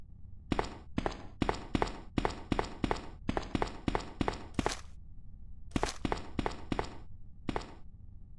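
Footsteps in the classic Resident Evil 3 Arrange Mode land in a steady, evenly spaced walking rhythm of crisp, close thuds, break off for about a second, then pick up again for a few final steps.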